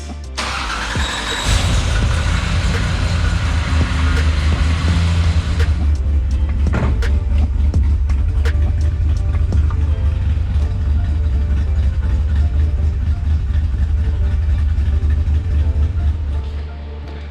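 A car's engine turns over and catches, then settles into a loud, steady running drone that holds for many seconds before easing off at the end.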